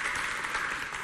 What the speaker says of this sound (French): des applaudissements bien fournis pour toute la hiérarchie